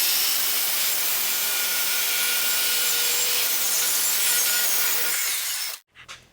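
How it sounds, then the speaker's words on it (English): A Festool track saw rips along a board edge in one loud, steady, close cut lasting several seconds, then cuts off abruptly and spins down. No one talks. "I'm going to drop my splinter guard down, check my plunge depth, and then I'm going to rip my surface edge"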